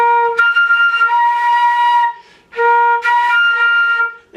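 Flute high notes overblown with a poor embouchure, two sustained shrill phrases with a short gap between them, loud and close.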